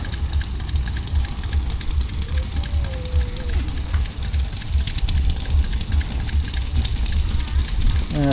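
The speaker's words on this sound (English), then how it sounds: "And there's a 6-cylinder diesel in this one." A Fordson Major tractor with a six-cylinder diesel engine runs steadily at an outdoor steam and craft show, its low rumble continuous and fairly close, with crowd noise and distant voices mixed in.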